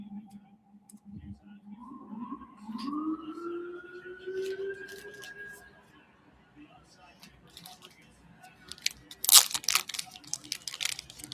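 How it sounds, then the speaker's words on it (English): Emergency vehicle sirens wail in the background, a rising and falling tone at a moderate distance, followed by clicks and handling noises close by. "A lot of sirens going off in the background tonight"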